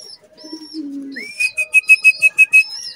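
Racing pigeons returning to the loft, a low coo followed by a bright rhythmic series of about eight quick whistling pulses, close and clear against quiet surroundings.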